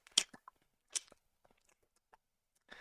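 Voice imitating someone eating loudly: a few close, wet smacking and crunchy chewing bursts separated by near-silence, quiet overall with no words spoken.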